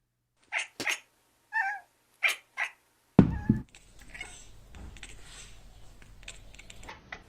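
A short cat video: several brief, close meows in quick succession, then a sudden loud clatter followed by a steady low hiss of background noise.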